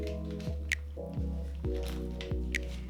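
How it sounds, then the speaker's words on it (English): A raw salmon fillet is laid onto a bed of spinach, giving a few soft, wet squishing and dripping sounds close by over a light background of music. "and lay it down on the bed of spinach."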